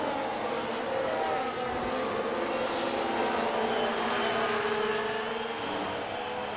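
Formula 1 cars race in the F1 Manager 22 game, a dense continuous engine whine with layered tones sliding in pitch as cars overtake, steady and loud throughout.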